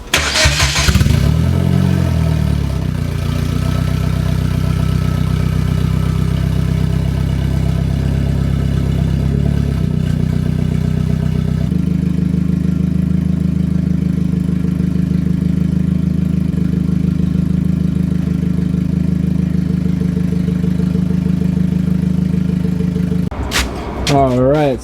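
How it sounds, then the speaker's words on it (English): A Hyundai Genesis Coupe engine cold-starts with a brief crank, then settles into a loud, steady idle that shifts to a lower, heavier hum partway through, ending with a clatter, and no one talks over it. "So let's get a cold start."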